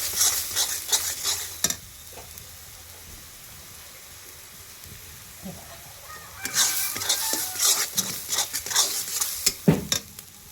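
Masala roasts in oil in an iron pan on a village wood-fired stove for an egg curry, sizzling steadily, with spatula scrapes and stirring clatter in bursts at the start and end.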